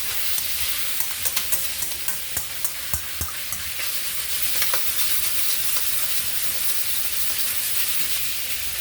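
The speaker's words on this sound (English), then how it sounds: "so that's rapid sauteing, and it's almost there" Beef sautés rapidly in a hot pan, a steady loud sizzle with repeated sharp scraping and stirring clicks early on, then continuous frying hiss with no voices.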